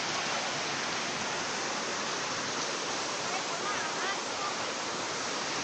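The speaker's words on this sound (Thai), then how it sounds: "ที่คือน้ำตกนะครับ" A loud, steady roar of falling water from a waterfall near Sakon Nakhon, Thailand, dense and unbroken throughout, heard from close by.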